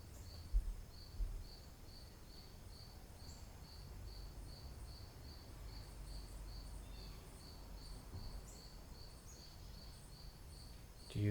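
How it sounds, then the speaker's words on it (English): Crickets chirp in a steady, rhythmic pulse, a high continuous train of evenly spaced chirps running the whole time over a faint low rumble, quiet and fairly distant, with a brief soft knock near the start. "Do you find a sense of peace in the rhythmic chirping of the crickets?"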